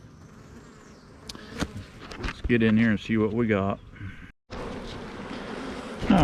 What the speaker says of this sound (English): We got quite a few bees here